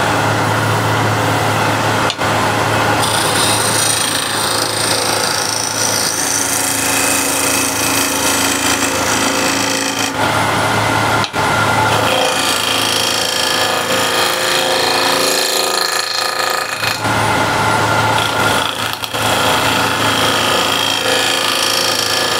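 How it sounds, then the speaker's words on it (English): A wood lathe spins as a spindle gouge scrapes the turning workpiece, giving a loud, continuous gritty whir with a steady motor tone, briefly cut off and resumed a few times. "And now I can start scraping again."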